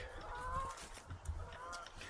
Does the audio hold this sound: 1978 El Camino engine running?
no